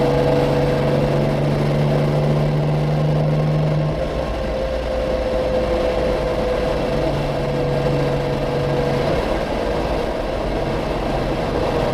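A 1954 Lancia Aurelia B20 GT Series 4 with a de Dion rear axle drives along, its engine giving a steady, unbroken drone heard from inside the car with no talking.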